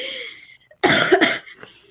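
A short burst of two or three harsh coughs up close from someone just over bronchitis, after a quiet moment with a faint voice.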